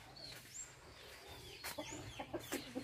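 Fighting-breed chickens kept at a rural house cluck in short, close, fairly quiet bursts that grow more frequent toward the end, with faint bird calls in the background.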